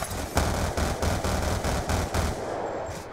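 Rapid bursts of gunfire from a gun in the Black Ops II video game, about eight loud shots with short pauses between them, followed by a quieter tail with no voices.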